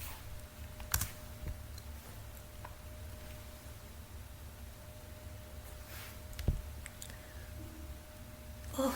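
Keys tapped on a computer keyboard while entering a git command, sparse quiet clicks and a few louder taps over faint room hum, with no speech.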